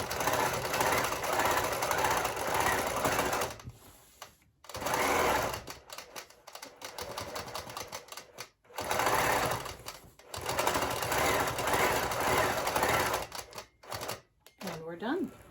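A sewing machine zigzag-stitches across a quilt block, running in fast, loud rattling bursts that stop and restart several times with short quiet pauses.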